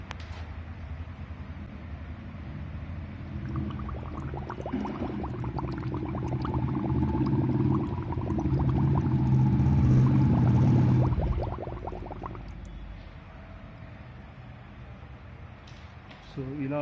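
Hydroxy gas bubbling up through a small bucket of water, a steady gurgling fizz that swells louder in the middle and then fades, with talking over it.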